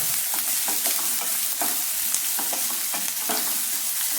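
Onions sautéing in a pan for prawn pepper masala, a steady sizzle broken by repeated scraping stirs of a spatula, close and continuous, with no voices.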